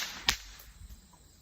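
One crisp crack of a bullwhip snapping near the listener, a quick loud burst followed by a quiet tail.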